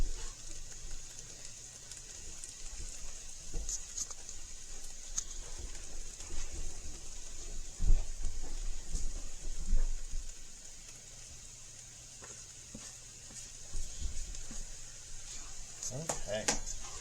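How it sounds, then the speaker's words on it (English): Ground beef sizzling in a pan for chili, a soft steady crackle and patter with scattered pops and clinks of utensils, faint and continuous throughout. "Oh, there she goes. She's sizzling now."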